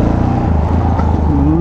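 A Yamaha XT660 single-cylinder motorcycle engine runs loud and close, a steady low rumble with a rising pitch toward the end as it revs up.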